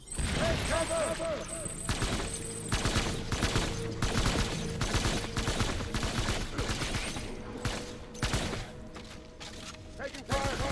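Dense bursts of gunfire in the video game Death Stranding, rapid fusillades and crackling shots packed closely together throughout, loud and continuous with brief dips, with faint talk underneath.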